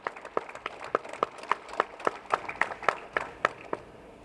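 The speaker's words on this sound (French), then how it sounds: "je vous propose d'applaudir très fort les paroles de ce ministre de la Justice" An audience at a Hungarian government ceremony of condolence to France claps together in sharp, evenly spaced beats, a rhythmic unison applause that stays clear and fairly close with no voices over it.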